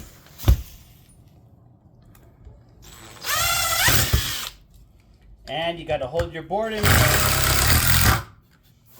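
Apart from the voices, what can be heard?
impact drill hammering screw into board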